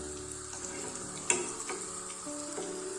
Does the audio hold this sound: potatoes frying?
yes